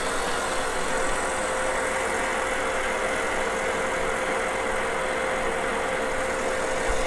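An electric mixer whips cream for tiramisu, giving off a steady, even whir with a constant tonal hum and no pauses.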